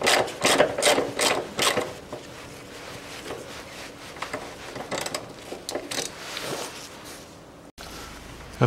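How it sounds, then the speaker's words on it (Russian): A ratchet with a 10 mm socket unscrews nuts holding a plastic fuel tank shield on a 2011 Range Rover Evoque 2.2, giving close bursts of quick clicking ratchet strokes, then sparser clicks and handling noise. "откручиваю по периметру гайки"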